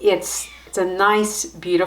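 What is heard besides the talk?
None of the usual background noises is heard.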